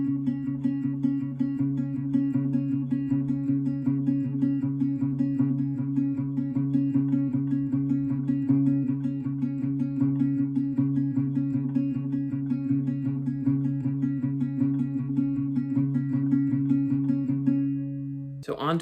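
Acoustic guitar plays the finger-picked verse pattern of a song (live version), ringing notes layered into a steady, even wash that holds its level for nearly the whole passage before a brief change at the end.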